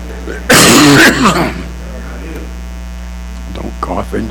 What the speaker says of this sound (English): Don't cough into the mic.